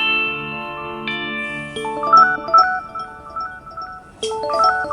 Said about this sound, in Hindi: पता नहीं कौन घंटी कर देता है।